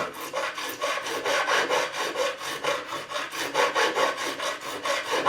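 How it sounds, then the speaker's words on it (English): Flat file leveling the frets of an Italia Maranello Classic guitar, heard as rapid, evenly rhythmic rasping strokes back and forth, close and steady, with no talking. "it's something I can do just with a flat file and this profiling file"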